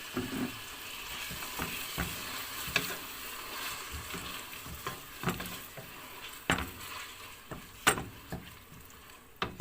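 Tomato sizzles steadily in a hot frying pan, with scattered clinks and scrapes of stirring throughout.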